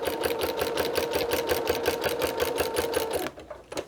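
A sewing machine stitches a quilt label in a steady, fast mechanical chatter that runs loud and close for about three seconds, then stops, leaving only faint small handling noises.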